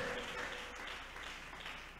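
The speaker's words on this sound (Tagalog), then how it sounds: "Pumalakpak po tayo ng malakas sa ating mahal na Panginoon. Isa pang malakas na palakpak" A church congregation applauds in a brief burst of dense clapping that fades slightly toward the end.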